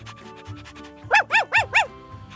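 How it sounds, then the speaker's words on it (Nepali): A dog barks four times in quick succession, loud and close, after some softer panting or whining sounds at the start. "dog"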